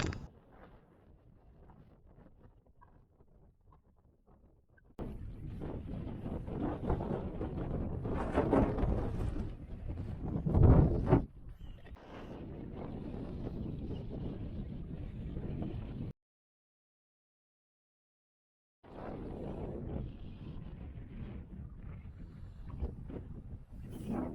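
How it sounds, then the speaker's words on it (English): Strong wind on the England Coast Path between Liverpool and Southport batters the microphone in heavy, roaring gusts. Quieter stretches come between them, and the sound cuts out briefly before the wind returns. "We're both fighting against the wind and a little bit fed up."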